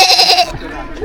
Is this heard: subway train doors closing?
no